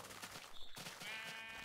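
A sheep bleats in the video game Minecraft, a short wavering cry near the start, followed by other game sounds and a thin tonal ringing, heard alone without talk.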